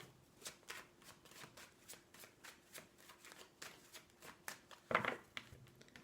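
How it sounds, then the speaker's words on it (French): A deck of cards shuffled repeatedly by hand, with a steady run of quick riffles and flicks, close and fairly quiet, and one louder slap near the end. "je vais prendre ces cartes"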